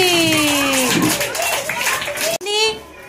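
Children in a classroom clap together, a short burst of group clapping close by, heard mixed with a teacher's and children's voices.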